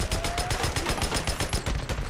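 Gun firing in the Days Gone video game, a rapid automatic burst of about a dozen evenly spaced loud shots, close and unbroken.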